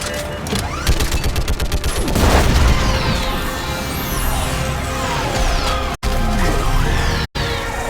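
Orbital strike explosions in a video game rumble with heavy booms and a dense volley of blasts, loud and sustained, with debris crackle and two abrupt cuts near the end.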